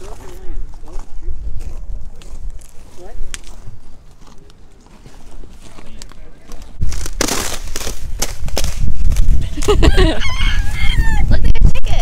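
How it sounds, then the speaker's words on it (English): Chickens cluck and a rooster crows several times nearby, with people talking and footsteps mixed in, growing busier toward the end. "Look at your chickens!"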